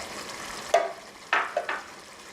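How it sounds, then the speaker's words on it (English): Green onions drop into a bubbling mapo tofu sauce with a few quick bursts of sizzling over a low background simmer. "So we want to add in our green onions."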